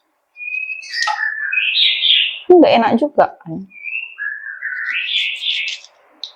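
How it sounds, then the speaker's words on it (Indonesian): A neighbor's pet bird sings clear, whistled phrases of rising and falling tones in two stretches, with a person talking briefly between them. "Tetangga sebelah aku tuh punya burung. Jadi tiap pagi kalau aku udah bangun, burungnya itu pasti nyanyi dia."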